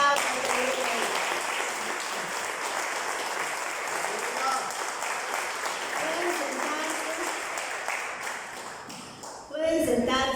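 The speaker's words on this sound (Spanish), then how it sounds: "Dele un aplauso." A church congregation applauds at a service, sustained dense clapping from many hands filling the room, with voices mixed in beneath and a louder burst near the end.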